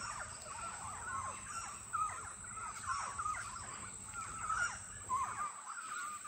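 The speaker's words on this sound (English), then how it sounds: "with Montezuma oropendolas going right over my head" A flock of Montezuma oropendolas calls overhead: repeated liquid, gurgling notes and harsh chatter rising and falling over a steady background hum, many voices overlapping.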